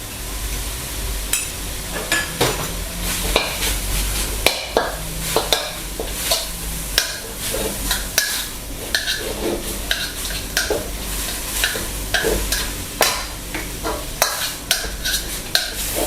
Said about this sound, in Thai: เราก็จะตามด้วย พริกแกงคั่วกิ้งนะครับ วันนี้จะคั่วแบบไม่ใช้น้ำมันนะครับ